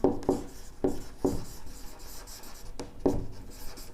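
Chalk or marker scratches across a classroom board in short, separate strokes, a close series of dry taps and scrapes with quiet gaps between them.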